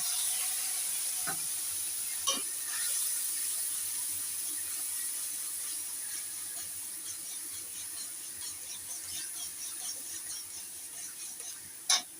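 A little water poured into frying poppy seed paste masala makes a steady, faint high hiss and sizzle, with a few sharp clicks of the pan scattered through and one at the very end.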